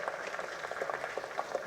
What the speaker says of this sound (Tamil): ஒரு மிகப்பெரிய கைத்தட்டலோட